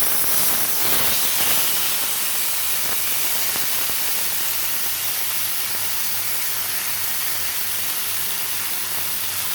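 After fish has been fried, ingredients go into the same oiled pan for Malvani modak fish curry, and a loud, steady sizzling hiss follows, close and unbroken, with no talk.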